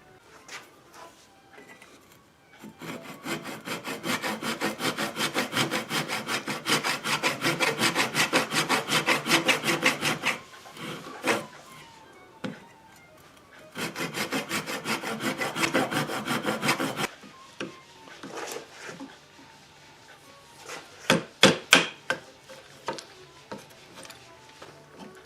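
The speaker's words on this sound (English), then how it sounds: "then just extend this channel with a saw so that the adjustment nut lies just inside of this" Hand saw cutting along a truss rod channel in a wooden guitar neck, close rhythmic rasping strokes in two long bursts with a pause between, followed by lighter scattered scraping and taps.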